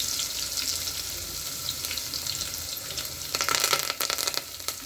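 Garlic and curry leaves hit hot oil with a continuous bright crackling sizzle that swells louder toward the end, close and without voices.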